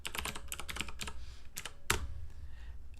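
Rapid keystrokes clatter on a computer keyboard as a short phrase is typed, close and crisp, in quick uneven bursts with a brief pause and one sharper key strike.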